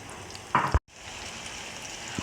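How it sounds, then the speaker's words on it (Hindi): Onions sauté in melted ghee with a soft, continuous sizzle. A short louder burst of stirring or clatter is followed by a brief dropout, and then the quiet frying goes on. "अभी मैं इसमें प्याज डालूँगी। प्याज को थोड़ा सौते कर लेंगे"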